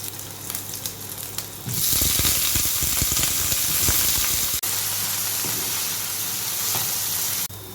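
Brinjal goes into a pan of frying onion and green chili, the sizzle surging loud and dense after a quieter start, with a sharp crackle midway and steady hiss continuing.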